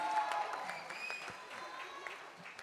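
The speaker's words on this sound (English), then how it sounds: "give him a round of applause, ladies and gentlemen" Audience applause at the trailer launch of the film Baazaar, a steady, moderately quiet patter of clapping from a crowd in an event hall, continuing without pause throughout.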